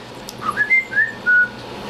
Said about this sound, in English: that's the Samsung generic ringtone, whistle tone